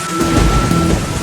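Heavy rain and rumbling thunder from an anime scene of a storm meant to drown people, a loud, dense wash of downpour with a deep continuous roll underneath.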